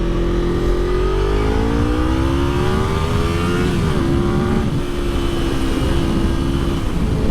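A Honda VFR motorcycle engine revs up steadily, its pitch climbing through the gears, loud and close, with no talking.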